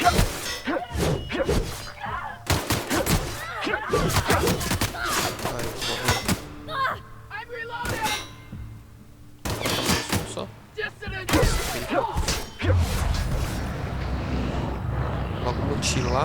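Sharp gunshots from the video game The Outer Worlds on Xbox One, in single shots and short bursts, with a voice talking over them.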